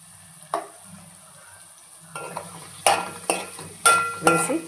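Egg Maggi noodles being stirred in a pan with salt and chili powder added, with utensil scrapes and clinks against the pan over a low sizzle, a single knock early then a run of louder stirring strokes near the end.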